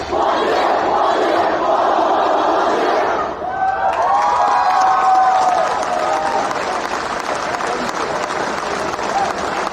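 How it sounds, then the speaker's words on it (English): A graduating high school class of 2010 yells its class cheer at a graduation ceremony, a loud sustained crowd roar with shouting and applause that swells again partway through and fills the whole stretch. "Please join us one last time in our class cheer."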